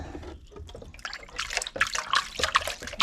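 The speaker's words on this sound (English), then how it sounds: "I'll give this a nice good rinse." Water sloshing and splashing as a gold prospecting pan and cleanup mat get a good rinse beside a Michigan river, a close, busy wash of trickling and pouring with no talk.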